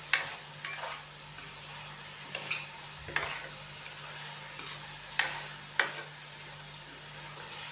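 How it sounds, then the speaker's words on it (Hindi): Beef roasts with spices in a pan for tinda gosht, a low steady sizzle with a faint hum and sharp spoon scrapes and clacks against the pan every second or two. "और यहाँ पे हम बीफ की भुनाई कर लेंगे स्पाइसेस के साथ"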